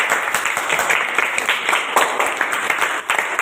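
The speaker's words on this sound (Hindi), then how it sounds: "अब बताओ, ताली बजाओ आप जादू के लिए।" An audience claps for a science-magic demonstration of a needle floating on water, producing dense, continuous applause throughout at close range and fairly loud.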